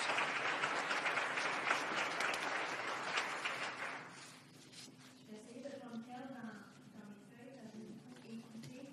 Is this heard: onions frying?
no